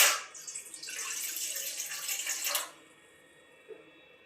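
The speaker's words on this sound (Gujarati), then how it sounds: "ચાસણી બનાવવા માટે આપણે કઢાઈ લઈ લીધી છે" Water poured from a tap or jug into a kadai while sugar syrup is being made, a steady close splash lasting about two seconds, then stopping, followed by a faint clink.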